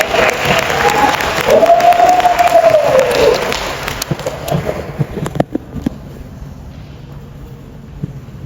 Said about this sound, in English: please give a round of applause